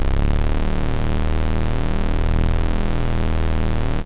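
A warhorn built in the Vital synth from unison detuned oscillators drones loud and steady for about four seconds, thick and buzzy with a full, bright top, then cuts off sharply.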